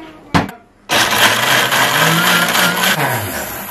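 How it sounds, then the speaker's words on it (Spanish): A kitchen blender starts up after a couple of short clicks and grinds peanuts with a little water for carapulcra, a loud steady whirring motor close by with a slight pitch dip near the end. "Vamos a licuar nuestro maní."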